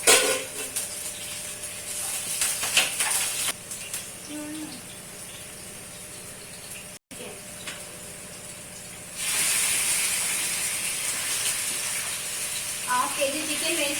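Green chillies dropped into hot oil for chicken biryani, a loud steady hiss and sizzle that swells sharply partway through, with some clinks of a pan and no talking.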